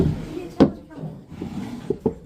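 A wooden drawer or cupboard in a Hobbit house bedroom is opened with a sharp knock near the start. Fainter wooden knocks follow later, over soft room noise.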